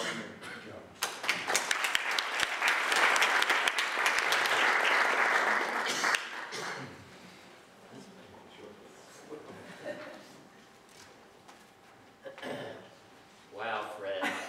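Audience applause welcoming a speaker at a scientific lecture on circadian clock mechanisms, a full round of clapping swelling for about five seconds then tapering off, followed by a voice talking.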